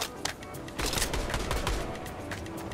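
Rapid gunfire in the Fortnite video game, with dense bursts of shots rattling continuously across the whole moment, loud and busy, with no voices over it.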